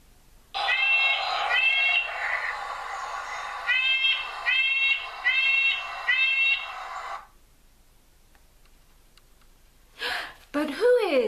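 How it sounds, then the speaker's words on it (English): A nuthatch perched on a long branch sings a series of clear, repeated whistled phrases in bursts, loud and close against a quiet background, followed by a pause and a few brief calls. "A nuthatch. These birds sit on long branches and sing."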